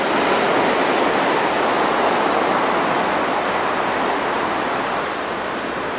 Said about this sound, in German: Guck mal, was das hier für eine Strömung ist.